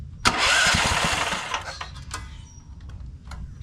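A 420cc small engine fitted with a turbo cranks on its starter, powered by a jump pack, in a brief whirring burst that fades into quieter intermittent clicks and clatter.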